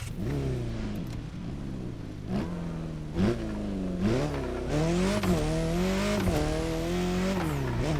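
A Mini John Cooper Works GP engine in The Crew Motorfest racing game revs up and down through repeated gear shifts, a steady loud whine climbing and dropping, with a brief tire squeal.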